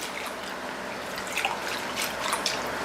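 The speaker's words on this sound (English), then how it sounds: "what I'm doing is I'm washing my herbs" Fresh garden herbs are washed by hand in a large bowl of cold water with a splash of apple cider vinegar, giving soft, continuous close-up sloshing and dripping.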